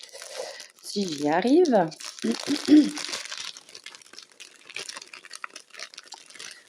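Plastic wrapping on two small skeins of Egyptian cotton cross-stitch thread crinkles and tears open close by, bursts of rustling mixed with someone talking over it.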